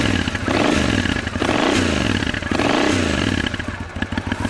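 A Triumph 900 Scrambler four-stroke twin motorcycle engine runs loud and close, with a throbbing, pulsing exhaust note that rises and falls in pitch through the whole stretch.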